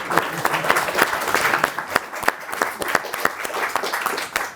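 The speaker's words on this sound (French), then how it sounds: "Parce que si vous êtes là, vous pouvez vous applaudir." An audience at a French-language author talk claps for itself, dense steady applause with sharp hand-clap transients running the whole time, fairly close and loud.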